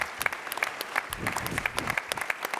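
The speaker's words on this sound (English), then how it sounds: "How about a round of applause, by the way, for the last panel and Mara, who did a wonderful job." A short burst of steady clapping from a small crowd, many hands patting in a dense, even patter.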